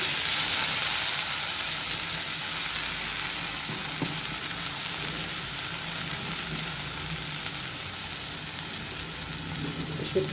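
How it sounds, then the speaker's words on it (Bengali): Water poured onto frying onions and spices in a pan for a dried-fish curry gives a loud, steady sizzling hiss. It lasts throughout without a break, with no voices. "পেঁয়াজটা ভালো করে ভাজা হয়ে গেছে, এখন মশলা কষানোর পানি দেবো।"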